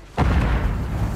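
A Semtex grenade detonates in the video game Warzone 3, a single loud, close boom with a deep rumbling tail.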